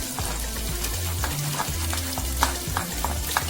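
Spices being stirred into a raw mango and date chutney, with continuous close scraping and stirring clicks over a low background rumble and a light sizzling texture.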